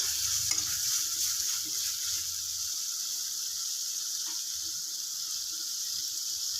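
Fish curry masala frying in oil gives a steady high sizzle close by, with a low scrape of stirring near the start.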